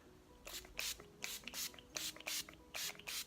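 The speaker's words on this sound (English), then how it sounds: "I'm just gonna go in with my Urban Decay All Nighter Setting Spray and just spritz my face." Urban Decay All Nighter setting spray misted onto a face, with about eight quick hissing pump bursts in a fairly steady rhythm, close but soft, with no talking.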